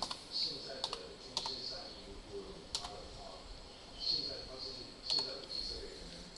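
Scattered key clicks from typing on a computer keyboard, a few sharp taps spread irregularly over a quiet room with faint background hiss, while someone talks over them.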